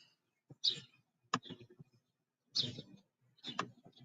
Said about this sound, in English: I keep hearing a little bird.